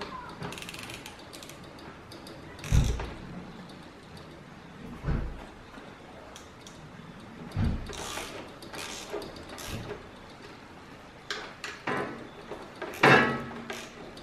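A torque wrench ratchets in short bursts while tightening the mounting of a Seccua UrSpring water filtration module, limited to 5 newton meters; several separate clicking spells spread across the clip with quiet handling between them.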